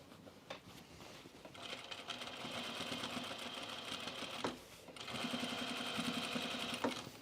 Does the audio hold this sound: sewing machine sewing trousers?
yes